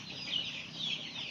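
Broiler chickens on a farm giving a steady, close chorus of soft clucking and chirping that continues throughout, fairly faint and with no talk over it.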